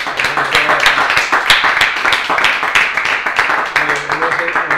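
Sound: audience applause after a book presentation

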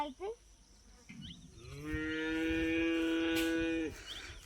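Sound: cow mooing

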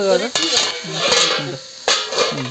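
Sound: lid placed on cooking pot

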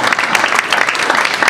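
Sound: audience applause

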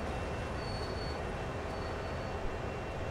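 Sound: train running in Train Sim World video game

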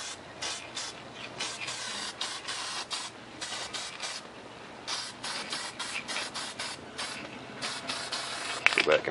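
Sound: spray painting

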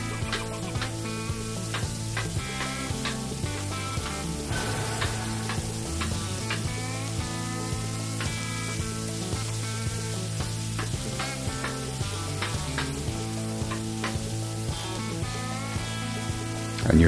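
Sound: chopping bacon burger on sizzling flat top griddle

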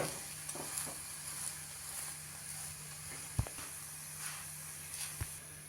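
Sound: rice masala roti roasting on a pan

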